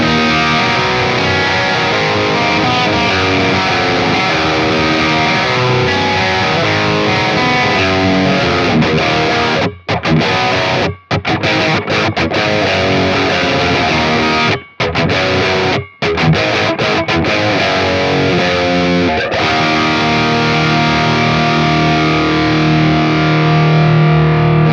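A Telecaster electric guitar played through a distorted ML amp-sim plugin gives a heavy, continuous saturated riff with a few sharp stops and short silences, loud and alone.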